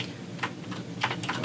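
Fingers tap a computer keyboard in a quiet room, sounding as a short run of soft, uneven clicks with a few louder keystrokes, close and alone.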